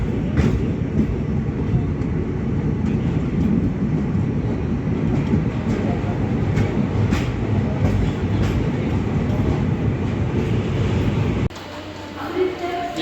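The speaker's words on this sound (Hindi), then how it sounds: "अभी दोस्तों हम चंडीगढ़ रेलवे स्टेशन पर पहुंच रहे हैं।" A train rolls into Chandigarh railway station with a steady rumble and rhythmic clickety-clack of wheels over rail joints. The sound drops abruptly near the end as the coaches slow.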